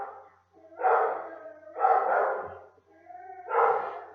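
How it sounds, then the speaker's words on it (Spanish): A small female dog barks three times in spaced, drawn-out yelps with a whimpering edge, fairly close and standing alone without talk over them. "cuando yo dije recién de la perrita, es esa la que está ladrando"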